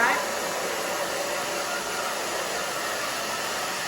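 Hair dryer blowing steadily as hair is dried at the back of the head, a continuous loud airy roar, close and unbroken for the whole stretch.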